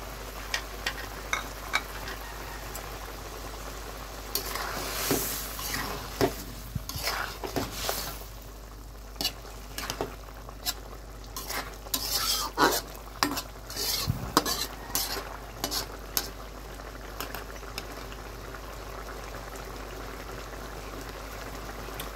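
Eggs cook in a pan of onion-based curry for egg do-pyaza, with a spoon clinking and scraping in irregular bursts over a soft, continuous sizzle, the utensil knocks loud against the pan.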